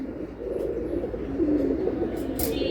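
Silver Giribaz pigeons coo softly in a low, steady murmur, with faint chirps and some background noise in a loft setting.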